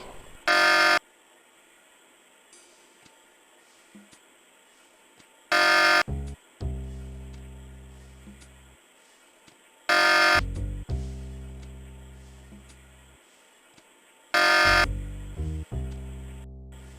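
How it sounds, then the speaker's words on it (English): An apartment alarm going off in the Tex Murphy: The Pandora Directive video game: four harsh, buzzing blasts repeat about every four to five seconds, with quieter tonal game sounds decaying in between. "I get inside and pick the lock to the apartment. Immediately, an alarm goes off."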